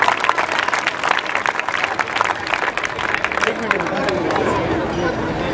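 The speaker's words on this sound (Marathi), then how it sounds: "जोरदार टाळ्या झाल्या पाहिजेत" Crowd clapping and cheering at the Titwala marathon, applauding an 11 km run finisher; dense, steady applause from a large outdoor gathering with voices mixed in throughout.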